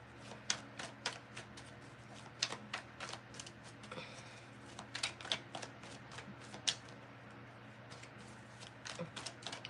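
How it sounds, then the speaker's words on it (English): Tarot cards are shuffled and sorted, making quick riffling flutters and soft taps at an irregular pace, fairly faint against a low background hum. "I'm organizing my cards"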